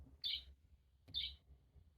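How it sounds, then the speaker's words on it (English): Bird chirping from a button on a children's farm sound book: two short, high, clear tweets about a second apart, faint and alone. "And birds."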